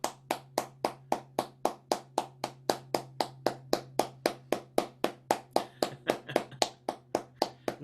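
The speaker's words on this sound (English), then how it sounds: "if I clapped the rhythm for that piece" One person claps the steady, unchanging quaver rhythm of a Bach prelude, about two dozen crisp, evenly spaced hand claps close to the microphone over a faint low hum, with no talking.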